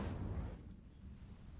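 Incendio fire spell cast in Hogwarts Legacy, a loud low whooshing burst at the start that quickly fades into a dull rumbling tail, heard alone.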